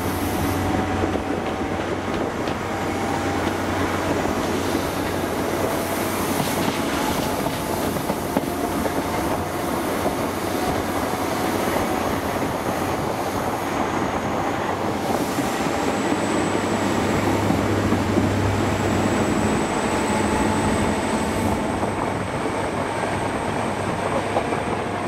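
An HST high-speed train with power car 43070 accelerates to 100 mph between Port Talbot and Neath on the Cardiff to Swansea line, heard from on board as a loud, continuous rumble with steady rail noise and faint clickety-clack, and no talking.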